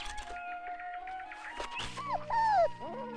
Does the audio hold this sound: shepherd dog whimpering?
yes